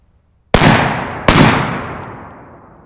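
Two loud unsuppressed rifle shots from an LMT 10.5, about a second apart, each with a sharp crack and a long ringing decay.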